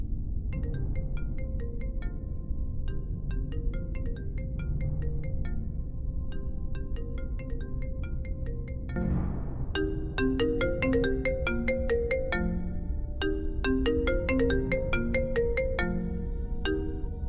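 A phone ringtone plays inside a Minecraft roleplay set in a school, a repeating chiming melody that loops steadily and loudly for the whole stretch, with a short break and a second, brighter ringtone pattern after it.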